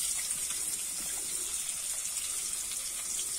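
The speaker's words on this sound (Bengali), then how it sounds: "পেঁয়াজটা আমি একটু ভালো করে ভেজে নেব।" Chopped onions frying in hot oil after whole spices were tempered, giving a steady, dense hiss and sizzle that runs evenly throughout without talk.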